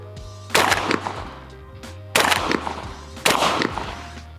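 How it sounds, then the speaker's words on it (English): Three loud shots from a Benelli Ethos Sport 28 gauge shotgun, each a sharp close blast with a ringing tail, spaced about a second or more apart over a low hum. "I haven't been paying any attention to recoil. So let me just do that real quick here."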